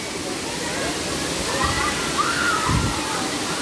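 Water rushes and splashes at Muttal falls near Muttal Lake, a loud continuous roar with a few sloshing surges, while people talk over it.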